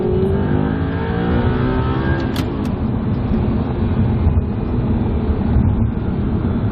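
An Audi R8 supercar with a V8 engine revs hard at full throttle in one gear up to about 7,500 rpm, a loud, continuous, rising engine roar with exhaust rumble heard from inside the car and no talk.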